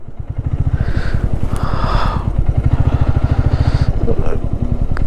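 A motorcycle engine thumps in a fast, steady rhythm close by, loud and continuous, with a brief voice over it.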